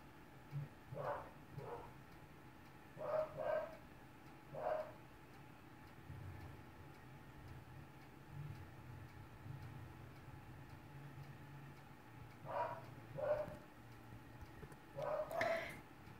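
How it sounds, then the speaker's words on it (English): A dog barks in the background of a home recording, several short separate bursts and pairs spread out with long gaps, faint and distant, with no talk over them. "I apologize if you hear barking in the background, that's my dog."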